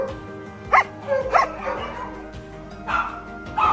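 Dogs at a dog hostel barking, a few short yips and bow-wows in separate bursts over a low steady background, fairly close.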